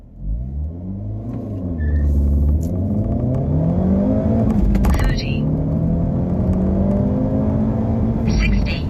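A 2025 Hyundai Elantra N with a manual gearbox launches hard from a stop with traction control off, engine revving and climbing through gears in a 0-60 run, loud and close inside the cabin with brief shift dips.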